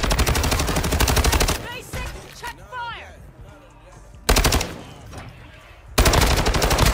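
Rapid automatic gunfire from the video game Warzone 2 comes in loud sustained bursts at the start, middle and end, separated by quieter stretches with faint talk and chirping effects.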